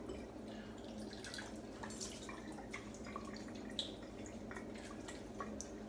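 Running water from a tap splashes and drips faintly as a hand is rinsed while shaving, a soft continuous trickle with scattered small droplet patters.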